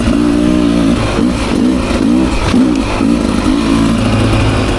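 A 2024 Beta 300 RR Race Edition dirt bike engine revs on single track, a loud, close two-stroke drone with rising and falling throttle pulses throughout.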